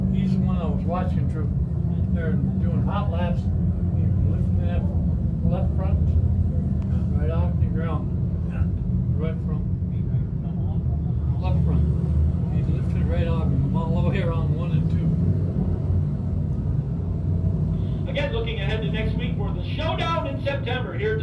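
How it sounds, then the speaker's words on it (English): Sportsman division dirt race cars run hot laps at Can-Am Speedway, a steady engine drone carrying through the whole stretch with bursts of crowd or announcer voices over it. "They're doing hot laps."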